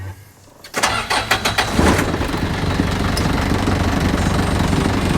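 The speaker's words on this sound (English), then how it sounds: "You want to put it in neutral and start the car." A car engine cranks with a quick series of starter pulses, catches and settles into a steady close idle, shifted into neutral during a winch recovery setup.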